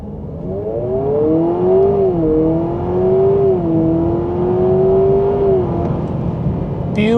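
A 2026 Honda Prelude coupe accelerates in sport mode, its engine note rising and falling in a steady, smooth drone heard from inside the cabin, with pitch shifts suggesting gear changes and no talk over it.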